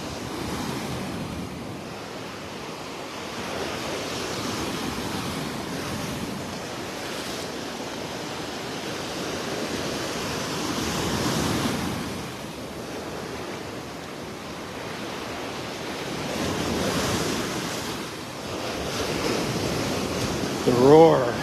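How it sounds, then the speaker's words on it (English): Ocean surf rolls steadily onto a beach in North Naples, Florida on a rainy early morning, a continuous broad roar that swells and eases as each wave breaks, with wind buffeting the microphone throughout. "A lot of waves for us."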